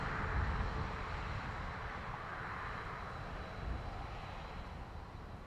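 A Ryanair jet arriving from Lanzarote roars in on landing at Dublin Airport, its engine noise a broad, steady rush at moderate distance that slowly eases off.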